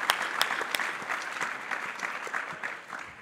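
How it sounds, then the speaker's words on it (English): Audience applause at a State of the City 2025 address, a steady wash of many hands clapping with a few sharper claps standing out, moderately loud and continuous with no talk over it. "One more round of applause for Robert Nisbet."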